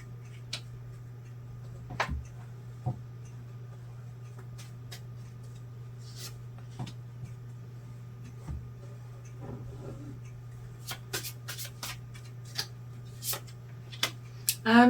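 Oracle cards handled and shuffled at close range: scattered faint taps, clicks and brief rustles over a steady low hum, with denser quick flicks near the end.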